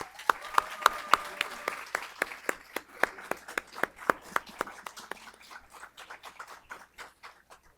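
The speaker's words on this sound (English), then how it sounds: "Let's give our length of service awardees a round of applause." A modest audience at an employee quarterly awards event claps for length-of-service honorees, sharp distinct hand claps that start fairly brisk and thin out as the clapping tapers off.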